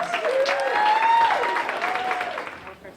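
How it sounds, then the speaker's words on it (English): Applause from the audience at a fundraiser launching a Connecticut chapter, sustained clapping with whistles and cheering voices mixed in, fairly loud and fading toward the end. "Can I hear your applause?"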